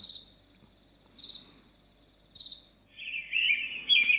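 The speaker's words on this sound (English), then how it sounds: "the birds tend to really come through the speaker" Electronic birdsong plays from the small speaker of a rechargeable white noise machine: a thin, steady high trill pulsing a few times, then a lower, busier burst of chirps near the end.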